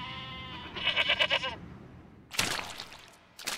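Guizhou dwarf mountain goats bleat on a mountainside, one wavering bleat followed by a burst of rougher, noisier calls and a brief final cry, fairly close and with no talk.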